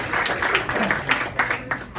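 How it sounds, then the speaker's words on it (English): Crowd applause at a South Mountain Aviation mascot reveal, a short burst of irregular hand clapping from a modest gathering, fairly close and steady before tapering off. "Let's give them a round of applause."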